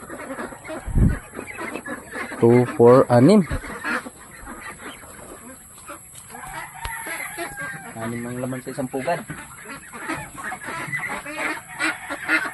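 Turkeys and chickens call near a nest during egg collecting, with loud honking gobbles and clucks in short bursts, close by, while a person talks in between.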